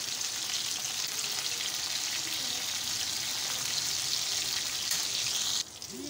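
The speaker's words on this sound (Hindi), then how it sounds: "इनको हम हल्की आंच पर भी फ्राई करेंगे ताकि कबाब हमारे अंदर से भी अच्छी तरह से टेंडर हो जाएं" Peshawari chapli kebabs fry in a pan over low heat, giving a close, steady, crackling sizzle that fills the whole stretch before a brief clunk and a drop in level near the end.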